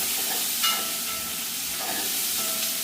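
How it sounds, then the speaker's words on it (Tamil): Tomatoes fry in a hot pan in a Jaffna home kitchen, giving a steady, loud sizzle and hiss with a few brief stirring scrapes and no talking. "தக்காளி பழத்தை இந்த போடுவோம் தக்காளி பழத்தையும் போடுவோம்"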